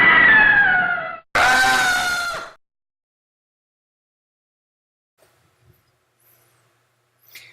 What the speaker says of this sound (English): a beautiful girl screaming her head off, bloody murder